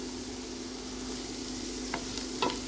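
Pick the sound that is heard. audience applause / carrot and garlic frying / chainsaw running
carrot and garlic frying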